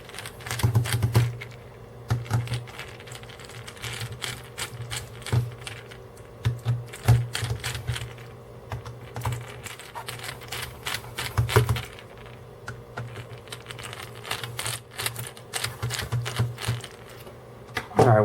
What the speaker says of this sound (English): Get our screwdriver out and just take the screws out in each of the 4 feet.